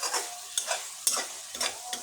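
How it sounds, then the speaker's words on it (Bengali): Meat for biryani being stirred and fried in a pot: a spoon scrapes around in quick, repeated strokes over a soft, steady sizzle, close up, with no speech. "এখন আমি মাংসটা উঠিয়ে চালটা কষিয়ে নেব।"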